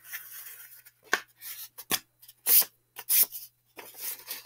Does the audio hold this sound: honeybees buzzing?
no